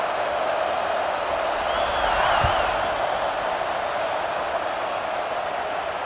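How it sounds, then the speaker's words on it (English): A college football stadium crowd at an SMU at Florida State game keeps up a steady, loud, buzzing roar, with a brief swell partway through and no pause. "this crowd is buzzing after that last score"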